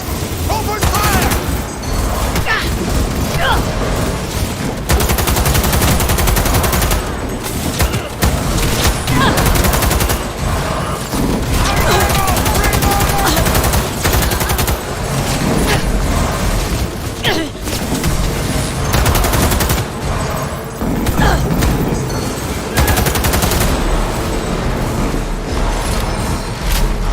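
Heavy, loud gunfire in the video game Cyberpunk, with rapid automatic bursts and single shots that overlap almost without pause, plus occasional booms and mechanical clanks throughout.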